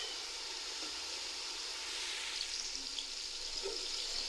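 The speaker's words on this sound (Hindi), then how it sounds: "अच्छी से इसकी भुनाई करनी है ताकि जो खुशबू होती है लहसुन की वो मुकम्मल तौर पर ख़त्म हो जाए" Garlic and ginger paste frying in a pan for white chana pulao, a steady soft sizzle and hiss running throughout with no talk.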